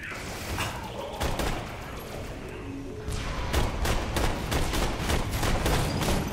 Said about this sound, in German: Jo, ein Schuss abgegeben, ich musste nachladen.